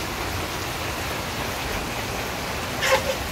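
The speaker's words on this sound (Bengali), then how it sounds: "আর বৃষ্টি হচ্ছিল, মুষলধারে বৃষ্টি, অনেক বৃষ্টি।" Heavy downpour in a village setting, a steady broadband hiss of rain on surfaces throughout, with a few brief louder splashes or knocks near the end and no speech.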